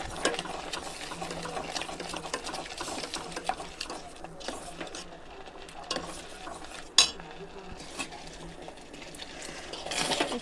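A coconut milk sweet being stirred in a pan, with a spoon scraping and clinking against the metal amid a soft bubbling sizzle, plus one sharp knock partway through.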